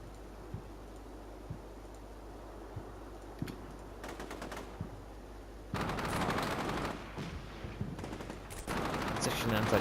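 Gunfire in the Combat Mission: Shock Force 2 wargame comes as scattered single shots, then several bursts of rapid machine-gun fire growing louder and denser toward the end, with faint voice traces underneath.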